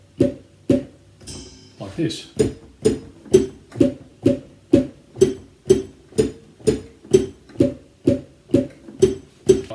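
A metallic cowbell tone, pitch-bent down a tone, strikes in a steady, even rhythm about twice a second, each hit bent downward in pitch, with a brief voice near the start, for a backing track.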